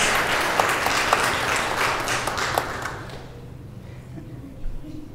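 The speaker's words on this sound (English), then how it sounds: "we welcome Evelyn Grace with a round of applause" A church congregation at a Sunday service claps to welcome Evelyn Grace, steady applause for about three seconds with a few sharp individual claps, then fading to quiet room tone with faint low murmurs.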